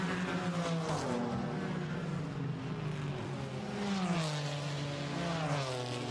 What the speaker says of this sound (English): There, over the timing line, is the Mercedes of Luke Ibanez.